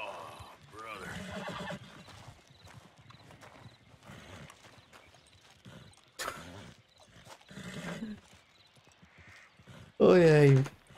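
A horse in Red Dead Redemption 2 clip-clops with scattered hoof hits and gives one loud, shrill neigh near the end, while someone talks over much of the game action.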